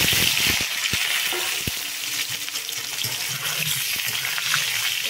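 Boiled potatoes go into hot oil already seasoned with whole cumin and a bay leaf for aloo dum, giving a steady, loud sizzle and frying hiss with a few clinks of utensils near the start.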